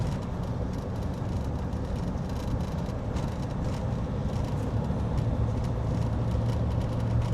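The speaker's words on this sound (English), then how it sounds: "we're just having a little drive through Breen at the moment" A car drives through the village of Brean in Somerset, and a steady, moderately loud interior engine and road rumble runs throughout without talking.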